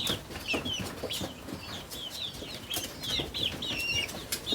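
A crowd of chickens on a poultry farm in Ghana cluck and chirp steadily around the listener, with scattered wing flaps and shuffling and no talking.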